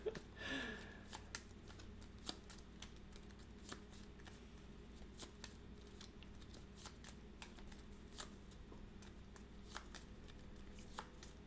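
Fog of war cards for the Undaunted Stalingrad board game are shuffled by hand in repeated quiet riffling snaps and slides, a soft, steady run of card flicks close by at low volume.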